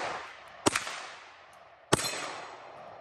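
Two sharp outdoor rifle shots, roughly a second and a quarter apart, each cracking loud and close before a long echoing decay trails off into open air.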